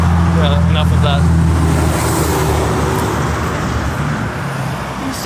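A truck loaded with cattle rolls past on a road, its engine a steady low rumble under broadband traffic noise that slowly fades, with voices talking nearby.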